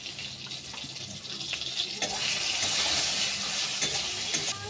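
Eggplant frying in a pan with salt and turmeric gives a steady hiss that grows louder and fuller about halfway through, with faint clicks of stirring scattered throughout and no one speaking.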